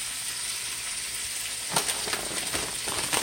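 Stir fry sizzles steadily on high heat, a constant bright hiss with a few sharper crackles and pops toward the end, close and loud with no talking.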